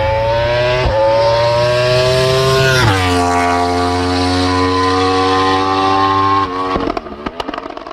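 A 1959 MV Agusta motorcycle engine runs loud and close along a beachfront, holding a steady drone, stepping down in pitch as it shifts gear, then fading into rough, uneven popping near the end.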